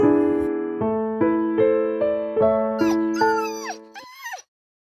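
A dog whimpers and yips in a rising series of short, high whining cries, growing more strained before stopping abruptly.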